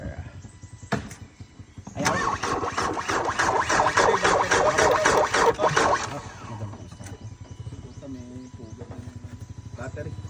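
Engine of a rescued Chevrolet Trailblazer cranking and catching on a roadside rescue job, a loud rough burst of several seconds that settles into a steady idle, with people talking around it.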